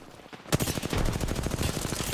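Rapid automatic gunfire erupts in an Apex Legends match after a quiet half second, a loud, close stream of evenly spaced shots lasting about a second and a half.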